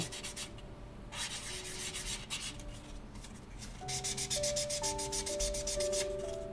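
Soft rhythmic rubbing as a foam sanding pad works the rounded parts of a scale model, with short strokes coming in bursts and faster near the end, close and fairly quiet.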